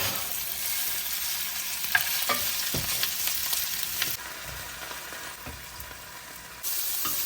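Beef browning in a couple tablespoons of oil in a pan, a steady close sizzle and crackle with occasional stirring scrapes, no talking.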